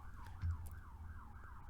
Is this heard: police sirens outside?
yes